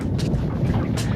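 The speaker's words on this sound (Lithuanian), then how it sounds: "Vėjas." Steady wind rushes over a boat on cold open water during a fishing trip, a low continuous roar with a couple of brief, brighter gusts breaking through.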